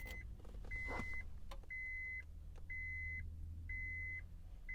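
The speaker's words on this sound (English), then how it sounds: "Now I'm going to turn the ignition to the run position." A Honda car's ignition turned to the run position while a dash button is held in, a series of soft, evenly spaced electronic chimes repeating over a low steady hum inside the quiet cabin.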